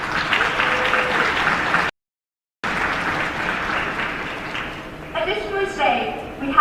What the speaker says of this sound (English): Please help me recognize all that they do with a round of applause.